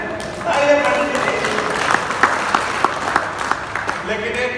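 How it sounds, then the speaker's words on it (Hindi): An audience at a live comedy show claps in a brisk burst of applause, with scattered sharp individual claps standing out and voices mixed in. "तालियां बजाओ"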